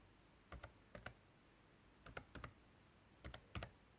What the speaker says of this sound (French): nous allons ici taper